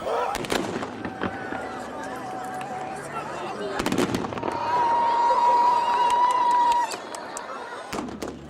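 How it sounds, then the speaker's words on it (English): A team of horse riders fires a rifle salvo at a fantasia horse-riding tournament in Morocco, with sharp cracking bangs clustered near the start and middle, a crowd murmuring and a voice talking over the noise. "Each attack ends with a rifle salvo."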